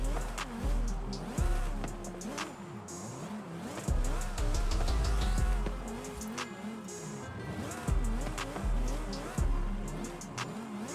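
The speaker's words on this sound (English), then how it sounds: "does a supercharger sound louder in this car? Listen to it." A revving Lamborghini Huracan STO engine in Forza Horizon 5 with a supercharger whine, rising and falling through gear shifts as the car accelerates downhill, loud and close, with tire noise.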